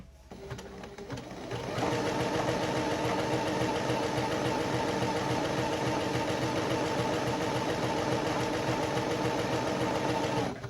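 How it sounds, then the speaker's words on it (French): Sewing machine running a zigzag stitch around two pieces of fabric sewn wrong sides together: after a brief quiet start, a fast, even mechanical whirr with a steady rattling pulse, close and continuous to the end. "on a commencé à coudre les tissus envers contre envers et on fait un point de zigzag tout autour"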